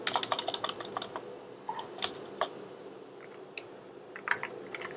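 Keys clatter on a computer keyboard in quick bursts of close, light taps, dense at first and then sparser, with no talking.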